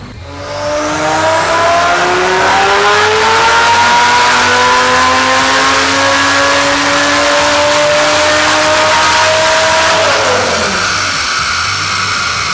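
Heffner twin-turbo Lamborghini Gallardo screams on a dyno, engine pitch climbing steadily under full load for about ten seconds before dropping off as the throttle closes, loud and close with no talk.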